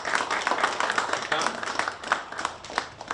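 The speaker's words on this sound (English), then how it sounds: "Let's give her a round of applause." At an International Youth Day event in Rwanda, an audience claps for a panelist in a dense, lively patter of hands with sharp individual claps standing out, with some voices mixed in.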